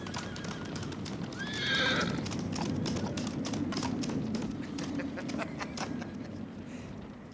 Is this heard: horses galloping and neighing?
yes